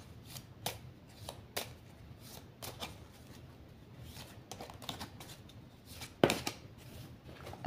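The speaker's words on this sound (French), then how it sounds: "Allez, je mélange. Il n'y a pas beaucoup de cartes bleues" A deck of oracle cards being shuffled by hand, with repeated crisp riffling bursts at an irregular rhythm, close and fairly quiet, plus a louder flurry near the end.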